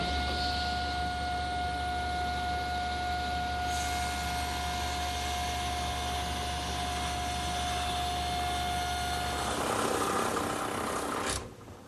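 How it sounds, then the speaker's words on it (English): A table saw rips a wooden rail held against the fence, a loud steady whine and roar of the blade that shifts pitch partway as the cut progresses, then spins down near the end. "The idea here is to hold the rail tight to the table saw surface and against"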